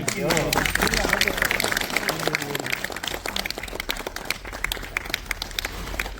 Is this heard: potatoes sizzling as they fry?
no